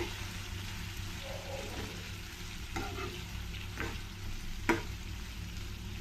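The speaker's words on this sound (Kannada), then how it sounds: "ಎಣ್ಣೆಯಲ್ಲಿ ಈ ಬದನೆಕಾಯಿನ ಸ್ವಲ್ಪ ಚೆನ್ನಾಗಿ ಫ್ರೈ ಮಾಡಿಕೊಂಡ್ರೆ ವಾಂಗಿಬಾತ್ ಅಂತೂ ತುಂಬ ಟೇಸ್ಟಿಯಾಗಿರುತ್ತೆ" Brinjal pieces frying in oil with no water for vangibath, a steady soft sizzle with occasional stirring scrapes and a sharp clink near the end, heard alone with no talk.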